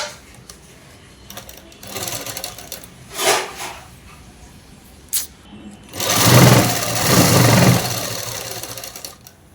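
A sewing machine stitches a French cut dress in short bursts: a couple of brief runs, then a longer, louder whirring stretch of rapid stitching, with quiet handling sounds in between.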